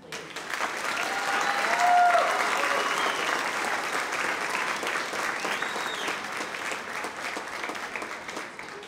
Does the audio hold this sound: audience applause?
yes